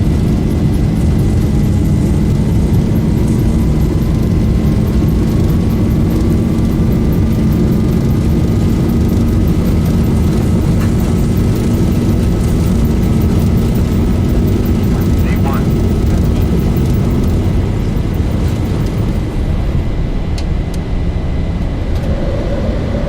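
Simulated Boeing 737 jet engines at takeoff thrust produce a loud, unbroken roar with a faint steady whine above it for over twenty seconds.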